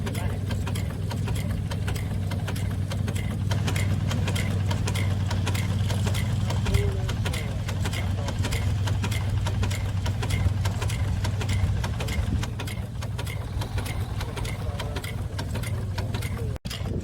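Antique gas engine running at a tri-state gas engine and tractor show, a steady low chugging drone with fast regular ticking beats, close and continuous for the whole stretch amid faint background crowd noise.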